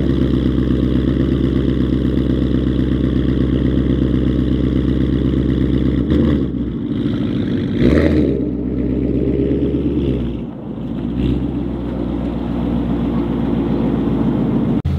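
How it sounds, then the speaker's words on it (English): A modified Ford Mustang pulls away on snow at full throttle with traction control off, making a loud, sustained engine roar that wavers and dips midway. A brief whoosh follows, and the roar fades and drops toward the end. "I was fully on the gas with traction control off"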